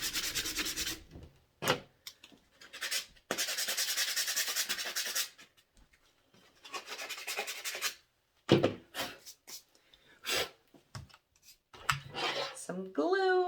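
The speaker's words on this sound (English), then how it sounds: "So, again, sanding block. Let's rough that up a little bit." Sanding block roughing up Dollar Tree craft pieces for a star Christmas decoration, heard as bursts of close, raspy back-and-forth scrubbing with short pauses between strokes, and a voice speaking briefly between them.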